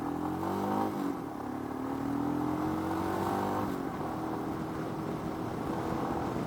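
A Royal Enfield Himalayan motorcycle engine with 15,000 km on it drones steadily at night, its pitch shifting as it changes down to first gear and keeps running.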